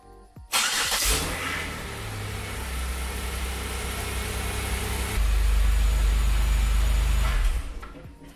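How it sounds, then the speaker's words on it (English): A Pontiac Grand Prix engine cranks and catches, then settles into a steady, loud idle that rises a step before cutting off. "I'm going to start it up"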